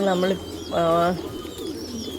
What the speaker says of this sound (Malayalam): നമ്മുടെ പ്രാവുകളെ എല്ലാം നമ്മളിപ്പോൾ അഴിച്ചു വിട്ടിരിക്കുകയാണ്